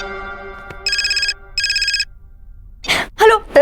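Telephone ringing in two short electronic trilling bursts, clear and close, followed by brief voices speaking after the rings.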